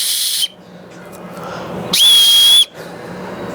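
A survival whistle is blown twice, with a short shrill burst followed after a pause by a longer, louder piercing blast, and faint handling noise in between.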